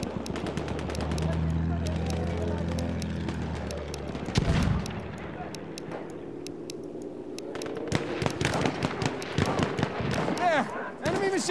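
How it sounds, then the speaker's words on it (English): Enemy machine gun fire in the World War I shooter Battlefield 1 rattles off in rapid bursts amid other battlefield gunshots and explosions, loud and close, with shouting voices over the fighting. "Enemy machine gun!"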